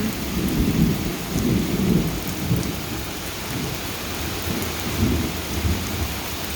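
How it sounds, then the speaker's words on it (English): Steady rain falls during an afternoon thunderstorm heard from indoors, with low rolling thunder rumbling throughout under a constant hiss of rain on surfaces. "All right, guys, the rain has begun."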